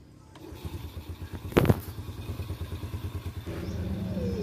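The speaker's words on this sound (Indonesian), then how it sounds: "Ya, coba kita hidupkan mesinnya." A motorcycle engine cranks with a sharp burst, catches and settles into a quick, even putter that runs on steadily, fairly close and moderately quiet.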